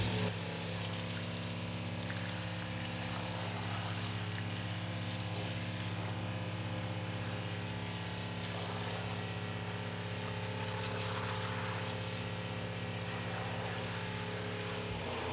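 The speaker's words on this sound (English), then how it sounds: "So rinse this off. We're just using the garden hose today." Garden hose spraying water onto a car tire in a garage, a constant close hiss and patter of rinsing water with a steady hum underneath, no talk.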